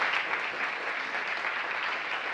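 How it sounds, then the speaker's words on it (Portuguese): Sustained audience applause at a panel session on African perspectives, a dense even wash of many hands clapping at steady loudness throughout, with no voices standing out. "Vamos aplaudir mais barulho!"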